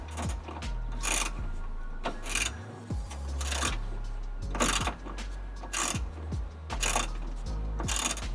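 A ratchet wrench clicks in repeated quick bursts while mud flap bolts are tightened on a third-generation Toyota Tacoma. The sound is close and steady, with brief pauses between strokes.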